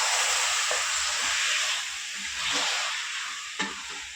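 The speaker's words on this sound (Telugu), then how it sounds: "చూసారు కదా చికెన్ అంతా బాగా ఫ్రై అవుతుంది." Chicken pieces coated with turmeric fry in a pan for a tamarind-leaf chicken dish, with a steady loud sizzle and occasional scraping stirs and clinks against the pan.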